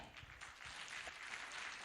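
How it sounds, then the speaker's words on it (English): A graduation ceremony audience applauds, a faint, steady wash of many hands clapping in a large space, brief and distant. "Can all of us clap for that?"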